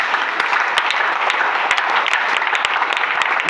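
A church congregation at a Sunday service claps steadily and continuously, dense applause close by without voices rising above it.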